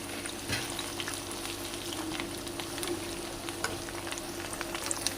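Chicken pakora frying in hot oil, a steady dense crackle and sizzle with occasional small pops, close and moderately quiet, with no voices.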